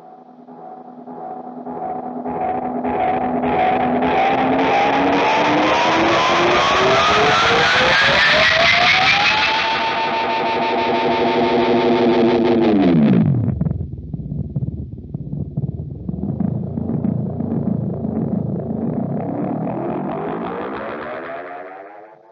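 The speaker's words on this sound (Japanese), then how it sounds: "テープらしい飽和感が強いぶっとい発信音が気持ちよいですね" A T-Rex Replicator D'Luxe tape echo pedal, feedback turned all the way up, self-oscillates into a thick, saturated howl whose pitch sweeps upward, holds, dives sharply low, then climbs again, loud and sustained with no talking.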